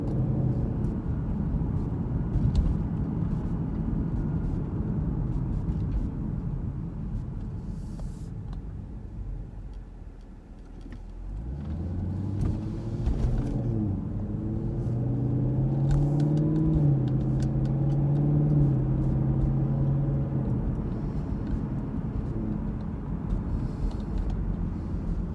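A car drives through the residential streets of Belle Meade in Nashville, Tennessee, with a steady low engine and road rumble throughout and a brief dip before the engine note rises again as it accelerates.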